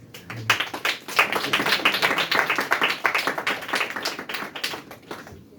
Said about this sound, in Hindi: बैजी के लिए तालियां होते हैं।